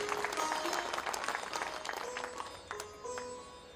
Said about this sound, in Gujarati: એમને પણ એકવાર જોરદાર તાળીઓથી વધાવો